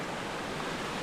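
Waterfall at Cathedral Falls in Washington, near a swimming hole, giving a steady, full rushing roar that fills the whole clip without breaks.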